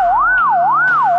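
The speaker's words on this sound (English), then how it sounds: "Suddenly, the night air is shattered with the wailing sounds of the police." A police siren wails in a smooth, rising and falling sweep, loud and close, repeating about twice across the short span with no voices over it.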